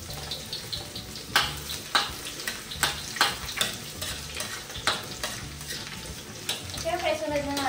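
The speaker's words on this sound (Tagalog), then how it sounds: "Magigisa na tayo ng bawang." Garlic sautés in hot oil in a pan, a steady sizzle broken by regular scraping strokes of a utensil stirring, close and fairly loud.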